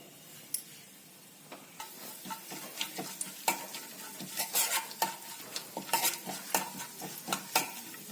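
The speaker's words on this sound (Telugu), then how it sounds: "ఇప్పుడు పోపు దినుసులు వేసుకొని ఒక 2 మినిట్స్ ఫ్రై చేసుకోవాలి." Tempering spices sizzle in hot oil in a pan, with a spoon stirring and scraping in quick, irregular clicks and knocks over a soft, steady frying hiss, close by and with no talking.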